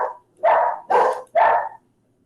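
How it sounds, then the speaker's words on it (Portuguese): Three sharp, loud barks from a dog close by, evenly spaced and then silence. "Até os cachorros estão comemorando, Duda."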